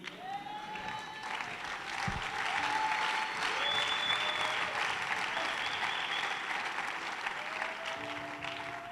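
Audience applause in a church, a steady broad wash of clapping that holds for several seconds at moderate level, with a few faint voices and tonal sounds drifting above it.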